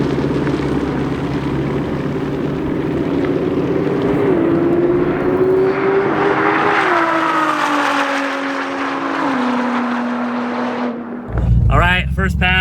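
A twin-turbo G8 car launches on a drag strip pass at a race event, its engine roaring loud and close with a steady rising pitch that shifts through gears, then cuts off abruptly as it hits the boost limiter, followed by sharp popping bursts.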